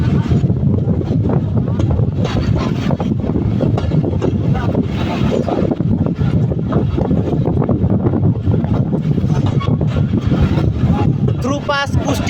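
The Tungipara Express train runs through Kushtia station, heard from on board as a loud, constant rumble with rhythmic clatter of wheels over rail joints and heavy wind buffeting, ending with a faint squeal.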